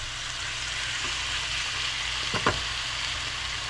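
Meat frying in a pan after being seasoned with onion powder, garlic powder, seasoned salt and pepper, giving a steady close sizzle throughout with a couple of brief stirring scrapes near the middle.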